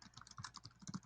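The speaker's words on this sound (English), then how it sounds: "Yeah, I'm typing." Fingers tap on a computer keyboard in a quick, uneven patter of soft key clicks, close but quiet, with no voices.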